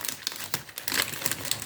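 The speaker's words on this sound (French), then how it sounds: "Je suis désolée pour les bruits de papier" Paper crinkling and rustling while craft supplies and stickers are unpacked, close, busy bursts of crumpling over under two seconds.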